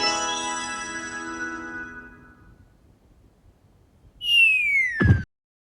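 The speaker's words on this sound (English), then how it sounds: "the whistle sound is super nostalgic for me" A fading harmonic tone gives way to a quick rising-then-falling whistle in an indie game's shop unlock sequence, short and bright, ending abruptly.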